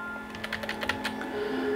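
Quick typing on a computer keyboard while entering a title in Adobe Premiere Pro: a close, uneven run of light clicks over a steady electronic hum, with no voices.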